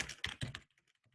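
Fingers type on a computer keyboard: a quick, close run of clicking keystrokes for about half a second, then a few faint scattered taps.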